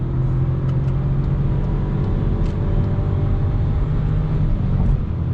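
A 2020 Volkswagen Polo 1.0 TSI Comfortline drones at full throttle while climbing a hill, a loud, steady low engine hum with road rumble from inside the cabin, unbroken throughout.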